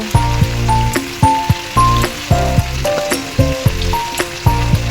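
Malabar spinach curry with turmeric, sugar and coriander powder being stirred and sautéed in a kadai, a close sizzle under repeated rhythmic spatula scrapes and knocks against the pan.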